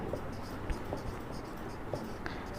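A pen scratches across paper while the chemical name chloromethane is written out, giving soft, close, uneven strokes with small taps between them and no talking.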